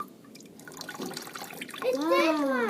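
Water squeezed out of an absorbent object, a close trickling and dripping splash, with a voice rising over the end.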